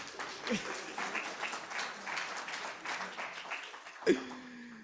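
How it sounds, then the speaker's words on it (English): A morning gathering's audience claps along steadily for several seconds, a loose continuous patter of many hands with a louder thump near the end, voices faintly mixed in. "How about some clapping?"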